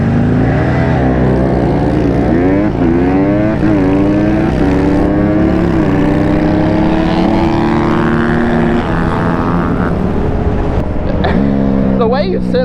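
Harley-Davidson 1200 and Honda 150 motorcycles running, a loud continuous engine drone with rising and falling revs close by, as if throttling and pulling away, with no pauses throughout.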